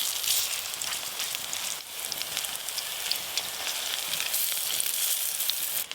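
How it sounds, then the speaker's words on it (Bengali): Drumstick flower fritters frying in hot oil with a dense, loud crackling sizzle that runs steadily throughout, close up, no talking. "বড়া এপিট ওপিট উল্টে পাল্টে ভেজে নিলেই হয়ে যায়।"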